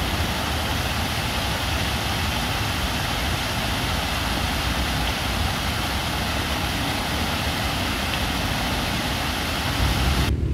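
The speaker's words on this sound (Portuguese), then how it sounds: "Esse barulho de cachoeira serve como uma terapia." A waterfall in Parque das Nações Indígenas, a park in Campo Grande, Mato Grosso do Sul, rushes as a steady, dense roar that holds unchanged and fairly loud throughout, with no voices.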